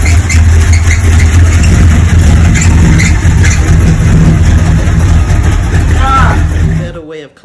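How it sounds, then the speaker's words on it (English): A 1966 Chevelle with a 396 V8 and four-speed gearbox rumbles steadily at idle with a deep, continuous low-end throb, close by and loud, before the sound cuts off abruptly near the end. "Better way of closing out a video than with a 1966 Chevelle 396 4-speed."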